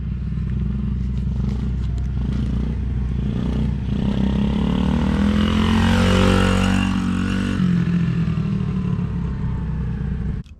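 A car with a four-speed gearbox accelerates hard through the gears, its engine roaring and rising in pitch through each gear with a loud, sustained drone and a gear change partway through.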